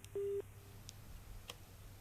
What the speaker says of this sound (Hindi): हरिकिशोर जी का फोन डिस्कनेक्ट हुआ है कि जरा चेक कर लीजिए